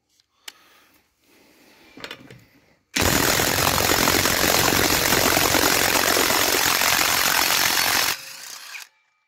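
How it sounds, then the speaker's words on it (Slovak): A Parkside Performance PDSSAP 20 Li A1 cordless impact wrench loosens bolts torqued to 120 N on its first gear setting: a few handling clicks, then a loud sustained hammering whir for about five seconds before it winds down. "Začnem teda povolovať skrutky na prvom prevode, čo je presne 120 N."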